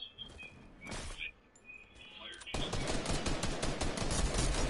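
Gunfire from a weapon in the video game Fortnite Battle Royale: a few scattered shots and chirpy effects, then a dense burst of rapid automatic fire, loud and close.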